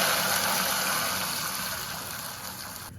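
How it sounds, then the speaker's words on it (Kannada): Water pours from a glass into a pot of rice, a close, steady rushing splash that eases off slightly toward the end. "ಅದರಲ್ಲಿ ನಾನು 7 ಗ್ಲಾಸ್ ನೀರು ಹಾಕೊಳ್ತೀನಿ."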